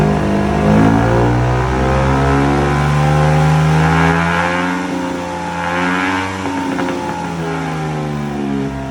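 A remapped scooter engine with a full exhaust system revs loudly and close, a sustained buzzing growl that climbs and falls in pitch across several long throttle pulls, with no talking.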